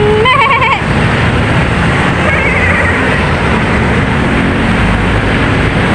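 A goat bleats once, a short wavering cry at the very start, then steady loud noise like a passing vehicle or engine fills the rest.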